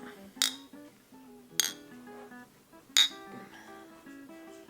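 Glasses of coffee beer clink together in a toast three times, each strike bright, close and ringing, with soft background music in between.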